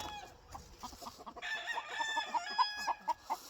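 A minor blue stag rooster crows and clucks in a yard, close and fairly quiet, with a run of short rhythmic clucks following a drawn-out call.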